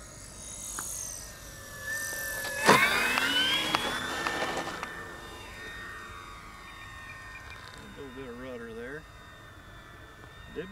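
An E-flite P-51D Mustang RC plane, 1.5 m model, whines past with a rising and falling motor tone, loudest briefly as it sweeps by, while people talk nearby.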